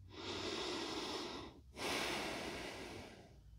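A person breathes deeply during a beginner mobility routine while arching into a hollow back and rolling the spine. One long audible breath, a brief pause, then another close, airy breath.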